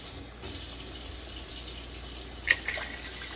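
Cups of liquid poured one after another into a pot while cooking chicken and potatoes. A steady, soft, hissing splash runs throughout, with one brief brighter clink or splash near the end and no talking.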